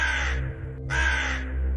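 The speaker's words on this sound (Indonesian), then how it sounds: "Suara burung gagak begitu nyaring, tak berhenti" A crow caws loudly: two long, harsh, close calls separated by a brief gap, over a low steady background rumble.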